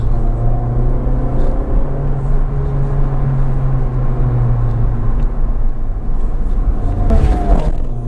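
A Honda Civic Type R engine held at half throttle gives a steady, loud droning rumble with a constant tone throughout and a brief rise in pitch near the end, heard close up from inside the car.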